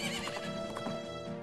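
A horse whinnies in a video game, a loud, wavering neigh near the start with hoof clip-clop under it, heard alone with no talk.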